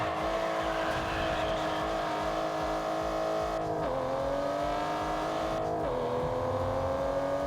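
A race car engine in the TDU Solar Crown driving game holds a steady, loud raspy drone, with two brief dips and recoveries in pitch as gears shift, and no talking over it.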